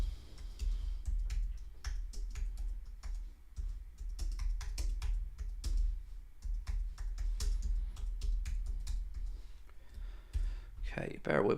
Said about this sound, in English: give me a minute to write it out because, you know, I'm not great with the old keyboard